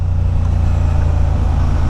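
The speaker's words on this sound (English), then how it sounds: "Listen to that noise on the overrun." A 2023 Honda Hornet motorcycle on the overrun, its exhaust giving a steady low throb with faint crackle as the engine winds down while riding, continuous and fairly loud with no talk.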